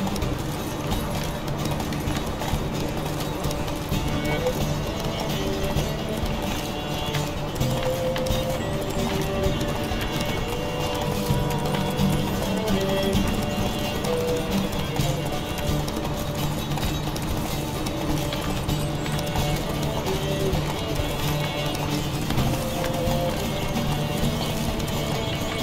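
Roach the horse galloping in The Witcher 3, a continuous rapid clip-clop of hooves at steady pace under game music and ambience, with occasional faint voice in the background.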